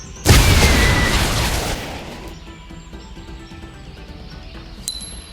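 A rocket detonates in the Ultra World video game with a loud, close boom that erupts suddenly, rumbles for about a second and a half, then trails into a fading, ringing tail, followed by a brief chime.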